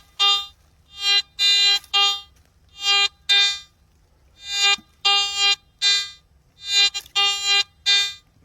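A gold prospector's metal detector sounds over a rock outdoors, giving loud, repeated warbling electronic tone bursts in irregular clusters with short quiet gaps and no speech.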